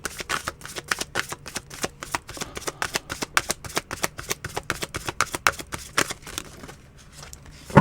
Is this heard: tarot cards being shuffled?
yes